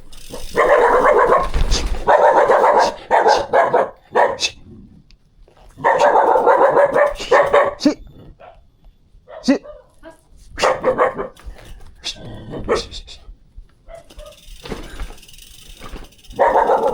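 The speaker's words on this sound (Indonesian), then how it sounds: "ada anjing yang menggonggong cukup kencang" A dog barks repeatedly in loud bursts, close by, with pauses between the volleys and some outdoor background noise, in a remote village near Talangseng, Indonesia.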